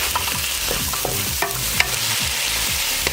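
A pan is deglazed with water while cooking savory oatmeal, potatoes and farro, a steady sizzle and hiss running throughout with scraping stirs and small clinks, close and busy with no talk.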